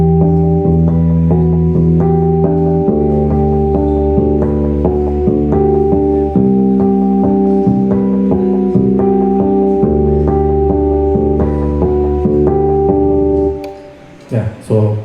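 Guitar harmonics ostinato played over a bass line, bright repeating high chiming notes above steady deep bass tones, loud and close, trailing off into a few knocks at the end.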